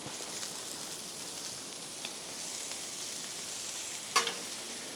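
Spinach sizzles on a hot flat-top griddle with a steady, even hiss and a sharp metallic tap of a spatula near the end, close with no talking.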